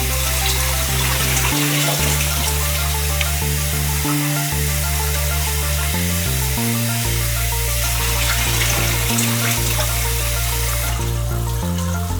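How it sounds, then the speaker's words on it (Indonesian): Running tap water pours steadily over broccoli being rinsed clean, a loud, continuous gush and splatter with no pauses, set against a constant looping background melody. "Suara bilasan air."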